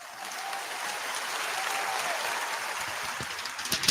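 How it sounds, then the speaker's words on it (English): An applause sound effect played from a radio studio console, a steady wash of crowd clapping at moderate level that swells slightly and ends with a few louder bursts. "Which winning sound effect do you want? I want some applause."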